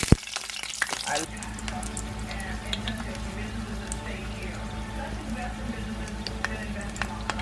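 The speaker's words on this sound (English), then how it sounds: "And I let them fry on each side a little bit" Tortillas for spicy turkey tacos frying in hot oil: a loud, close, steady sizzle with dense crackle and pops, opening with a brief burst of clatter before settling into continuous bubbling.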